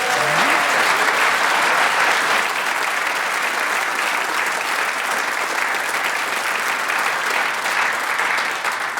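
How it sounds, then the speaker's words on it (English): A radio theatre audience gives a sustained round of applause, dense and loud, clapping steadily for the full nine seconds with no talk over it. "Cup-style round of applause."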